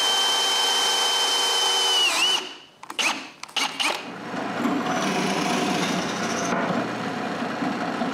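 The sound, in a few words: drill press drilling three holes in wood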